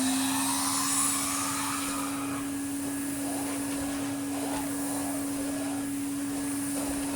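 A 2008 Numatic Henry HVR200 vacuum cleaner, refurbished, runs on a woolen rug with a steady motor drone and strong mains-like hum, brush and suction texture shifting as it moves across the pile, close and continuous with no talk.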